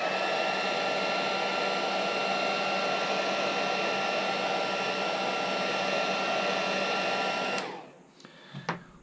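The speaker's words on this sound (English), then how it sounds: "I'm going to take the heat gun and go through and just shrink it up one more time" A heat gun blasts a steady, loud broadband rush of air while shrinking fabric tight, running continuously for most of the time before cutting off abruptly, leaving a few faint clicks and handling noises.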